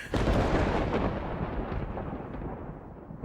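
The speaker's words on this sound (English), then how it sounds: "Ooh, thunder," A long rolling rumble of thunder in the video game Life Is Strange, loud at the onset and slowly fading while continuing to grumble, with no voices over it.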